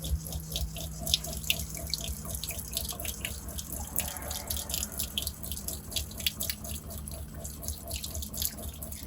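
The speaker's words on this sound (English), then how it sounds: "I will just show you hot water. So there's a mixer tap." Hot water runs steadily from a mixer tap in a campervan, a continuous splashing stream with dripping, close and alone, with a low pump hum underneath throughout.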